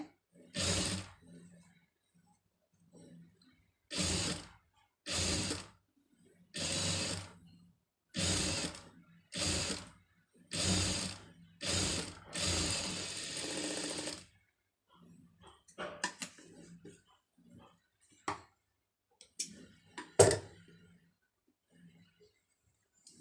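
A sewing machine stitching a neckline design runs in a string of short, even bursts of rapid mechanical chatter, each separated by a brief pause, then gives way to quieter handling sounds near the end.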